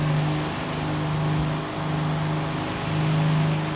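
Hummer engine at sustained high speed in Forza Horizon 3, a steady low droning hum with a slight swell, held continuously for a few seconds with no talk.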